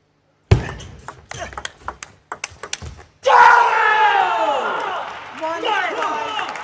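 In an arena semi-final between Fan Zhendong and Tomokazu Harimoto, a table tennis rally produces a quick series of sharp, crisp ball pings. The point ends in a loud burst of crowd cheering and yelling that carries on to the end.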